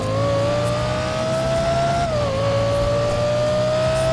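A sports car engine in GTA 5 accelerates hard, a loud, close, sustained rev whose pitch climbs steadily, dips briefly at a gear change, then climbs again, with no talking over it.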